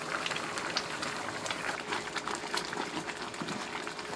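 Onion broth boils vigorously in a pot over high heat, a continuous close bubbling and crackling hiss with a faint steady hum underneath, no speech.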